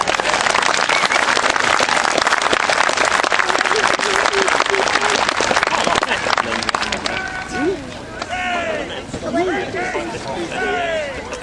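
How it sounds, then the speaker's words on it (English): An audience claps at an amphitheatre after a Roman military drill, a burst of loud scattered applause that tapers off, while people talk over it. "Give him a clap."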